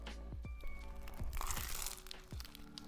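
Someone bites into a crispy, flaky black pepper beef burger from a Chinese street food stall, making several close, crackling crunches and chewing sounds at an uneven rhythm.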